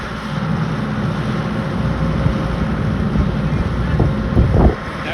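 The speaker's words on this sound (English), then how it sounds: "The wind has picked up, it's drying the field out a little bit." Gusty wind blowing across an open field on a construction site, a loud continuous rumbling buffet with microphone wind noise that swells near the end.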